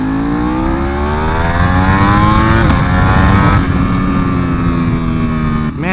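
Ducati Superleggera V4 motorcycle engine roars loudly while being ridden, revving steadily upward in pitch through the gears, close and dominant with a brief dip near the end.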